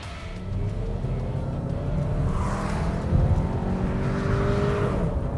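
An Audi Q2 compact crossover's engine revs hard toward its 6,500 rpm redline, a loud, continuous rising drone with climbing harmonics and steady road rumble beneath it, sounding close and sustained throughout.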